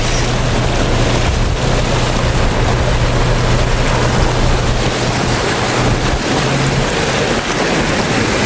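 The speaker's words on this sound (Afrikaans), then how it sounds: "Kyk hoe lê die water, hoe loop het." Floodwater flows across a dirt road in the Tankwa and Cederberg area as a vehicle drives slowly through it, a loud continuous rush mixed with wind buffeting and engine rumble.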